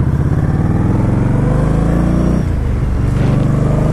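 An Indian Scout motorcycle engine runs loud and close with a throaty, pulsing rumble, dips briefly as if shifting or easing off, then picks up again.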